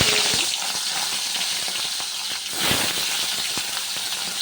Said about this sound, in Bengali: কড়াই গরম হয়ে গেছে তেল দিয়ে দিলাম একটু মাছটা হালকা ভেজে নেব